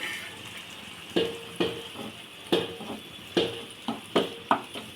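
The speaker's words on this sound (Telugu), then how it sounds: "ఇది వేగనియ్యాలి అల్లం వెల్లుల్లి పేస్ట్" Ginger garlic paste frying in a pan, with a steady sizzle broken by a series of sharp stirring scrapes and clatters roughly every half second to second, close and fairly loud, with no talk.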